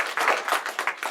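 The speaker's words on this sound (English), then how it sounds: "I think that deserves a round of applause." Audience applause after a job-placement announcement at a youth employment event in Cobourg, a brief burst of many hands clapping, dense and steady at moderate volume.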